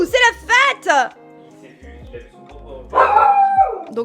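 A dog named Sawyer barks and yelps at its own reflection, a burst of loud close barks followed by a whining, howl-like cry indoors, with a person's voice also heard.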